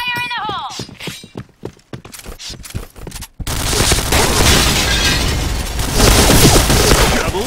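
Rapid gunfire in a Thai clan-war first-person shooter match, a burst of sharp individual shots aimed at a barrel followed by dense, continuous loud firing and explosions, with players talking over it.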